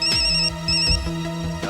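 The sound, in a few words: phone ringing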